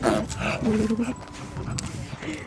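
A wiggly dog whimpers and yips in short bursts at a boatyard reunion, close and fairly loud, mixed with people talking and greeting over it throughout.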